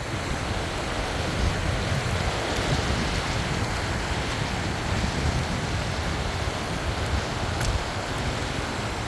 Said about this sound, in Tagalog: Medyo may lakas pa rin ang hangin.